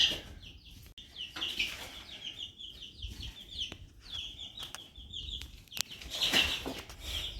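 Young chicks kept in a clear plastic bin peep and chirp continuously, a busy overlapping chorus of high, close calls with no talking.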